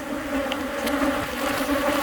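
Honey bees buzz steadily at an opened hive while a beekeeper works the frames, a dense continuous drone close by with no talk.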